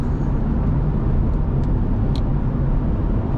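Steady, loud road and engine noise inside a 2020 Ford Fusion Titanium AWD with an EcoBoost four-cylinder cruising on the interstate, a continuous low rumble with a few faint ticks.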